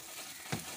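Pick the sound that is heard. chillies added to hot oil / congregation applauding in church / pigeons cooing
chillies added to hot oil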